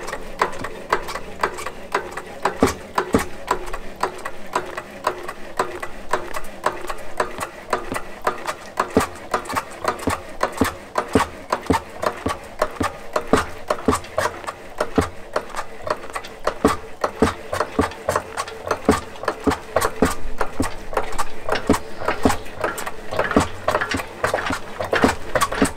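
A Clarke Strong-Arm lifting table is pumped up by hand, giving a steady run of rapid mechanical clicks and ratcheting knocks that continue at close range for the whole stretch, with no talk over it.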